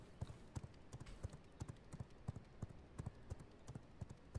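Horse hooves clip-clopping at a steady trot in the V Rising video game, with a mount called Softnapper; regular hoofbeats, fairly faint and close, with no talk over them.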